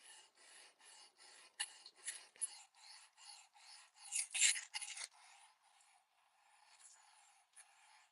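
Knife blade being sharpened on a fixed angle sharpener to cut a bigger bevel, steady rhythmic scraping strokes that swell briefly louder midway, faint and close with no voice.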